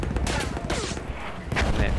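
Gunfire in the Battlefield 1 video game, rapid bursts of shots and a dense fusillade, loud and close, with a voice speaking briefly during the shooting.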